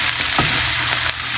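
Salt yakisoba being stirred in a frying pan, a loud close sizzle with a couple of brief scraping stir strokes.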